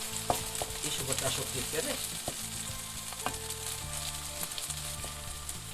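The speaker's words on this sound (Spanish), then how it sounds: "ya están un poquito rehogados esos chipirones" Baby squid sizzle and fry steadily while being sautéed in a pan for a pasta dish with prawns, a constant close crackle under a person speaking.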